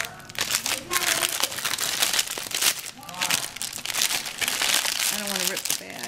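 A plastic bag crinkles and rustles in bursts as it is handled during a crafting session with Mod Podge, close and fairly clear, with a voice speaking over the crackling.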